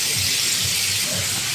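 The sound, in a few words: pork sizzling while frying in a pan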